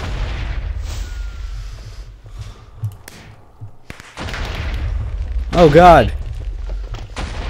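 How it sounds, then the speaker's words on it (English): Explosions in the Minecraft brawl arena game, with booms and thumps scattered through the clip against steady game noise, while a player speaks briefly. "Explosions are my friend."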